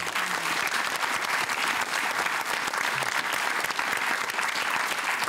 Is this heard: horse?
no